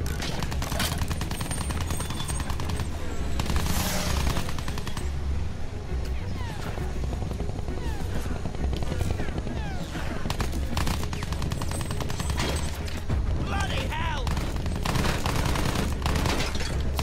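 Sustained machine gun fire from a Battlefield 1 battle, heavy rapid bursts rattling nearly nonstop amid explosions and engine rumble, with voices talking over the din.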